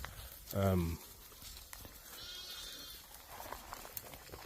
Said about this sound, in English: We've got some Sudanese fat-tailed sheep in there.